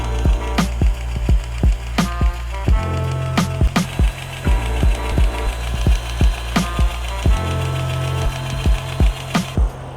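A Milwaukee cordless grease gun greasing a truck's fifth wheel, giving a steady loud motor drone broken by a long run of evenly spaced sharp clicking pulses, with an idling engine rumbling underneath.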